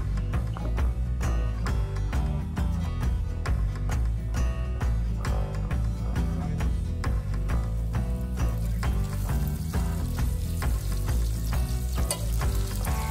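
Squirrel meat and onions fry in a pan, giving a steady, dense sizzle with fine crackles that runs without pause. A rhythmic background track plays over it, and no one speaks.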